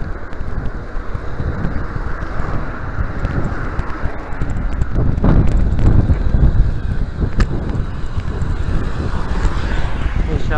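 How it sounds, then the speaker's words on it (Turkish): Strong outdoor wind buffeting a microphone during a bike ride, a constant loud low rumble and roar with gusts swelling midway, with no clear talk over it. "Rüzgar olunca kötü oluyor ya."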